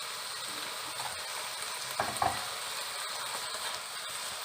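Chicken, vegetables and macaroni sauté lightly in a pan with chilli sauce and vinegar, a steady close sizzle broken by a few brief stirring scrapes near the middle.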